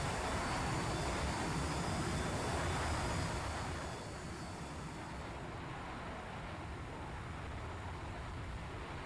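Jet engine roar from MiG-23 fighters in a flight combat video game, a loud broadband rush that stays steady for about four seconds and then drops to a lower sustained drone, with no talking.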